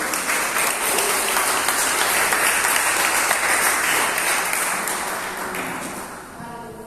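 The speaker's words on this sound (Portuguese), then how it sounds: "As palmas para essa palavra." A church congregation applauds after a sermon, sustained dense clapping from many people that holds steady, then gradually fades and tapers off toward the end.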